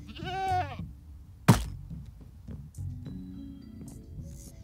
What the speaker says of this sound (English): If you hear a sudden baa, it might be wise to watch your back.